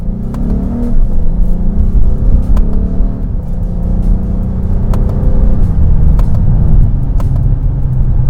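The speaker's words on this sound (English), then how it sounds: "I'm going to show you upshifting. I'm going to be doing it at medium throttle." A Lexus GS350 accelerating at medium throttle, its engine rising steadily in pitch and dropping at each upshift, heard up close from inside the car as a continuous drone with no talking.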